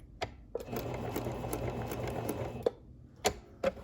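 A Pfaff sewing machine stitching a buttonhole bar tack on fabric, a fast steady whirring rattle of the needle for about two seconds, followed by a few isolated clicks, close by and alone.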